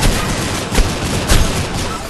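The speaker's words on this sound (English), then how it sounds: "What's this guy shooting at?" Rapid gunfire from the mobile shooter Critical Ops, with dense overlapping shots and two heavier bursts standing out, loud and continuous throughout.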